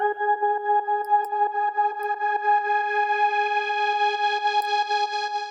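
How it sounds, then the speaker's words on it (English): A sustained synth chord pulses rhythmically through a sidechain shaper, its volume ducking and swelling in a steady repeating pattern, clean and alone without any talking. "this is where you're going to be able to add some sidechain effects to your sound."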